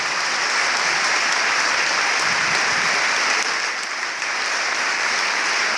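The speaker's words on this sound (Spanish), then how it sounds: "Quiero que brindemos un fuerte aplauso para todos los coros que están presentes hoy aquí" Strong, sustained applause from the audience at a choral gathering, honoring the choirs: a dense, steady wash of many hands clapping at once, loud and even for several seconds.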